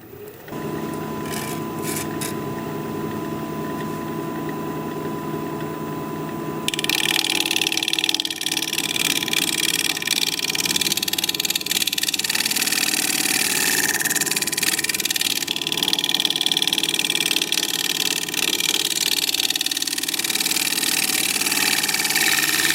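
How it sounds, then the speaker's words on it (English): A small negative rake scraper cuts a Russian olive live edge bowl on a lathe, making a steady scraping hiss over the constant motor hum, which turns louder and rougher partway through as the tool engages. "So we'll try this smaller negative rake scraper"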